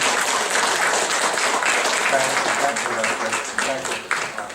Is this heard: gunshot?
no